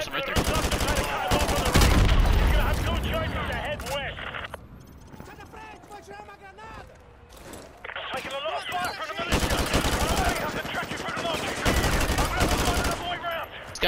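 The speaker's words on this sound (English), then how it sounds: "These guys are just hip firing" Enemy soldiers hip-firing automatic weapons in Modern Warfare 2 Remastered, loud bursts of machine-gun fire close by that drop away midway and then return in heavy rattling volleys.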